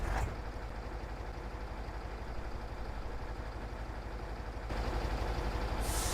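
An old Russian truck in Farming Simulator 19 runs with a dense, steady diesel engine rumble that grows a little louder and fuller near the end, with no talking.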